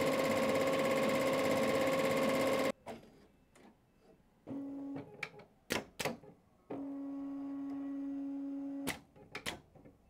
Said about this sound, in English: we can start the embroidery.